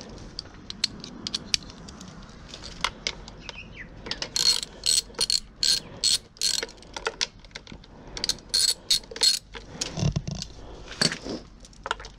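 A ratchet fitted with an 8mm deep socket works on a 2023 Honda CB125F motorcycle during a sprocket change, making close, crisp bursts of rapid clicking that start and stop several times.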